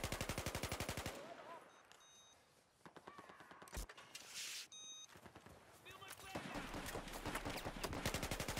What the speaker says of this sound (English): I'm getting shot from somewhere, I'm not sure where.